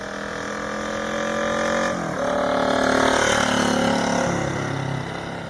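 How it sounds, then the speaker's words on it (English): A vintage 1970s Honda motorcycle engine fires up and settles into a steady idle, revving briefly near the middle before holding an even, loud drone. "So when you go to turn your bike on and hit that start button,"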